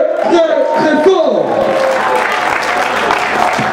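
A concert audience applauds loudly, with dense, continuous clapping and some crowd noise that swells in after a brief stretch of voice and music and holds steady to the end.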